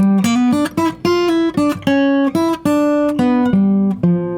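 A clean electric guitar plays a short jazz blues phrase with flat-five substitutions, single notes and bends flowing in a relaxed rhythm, close and clear.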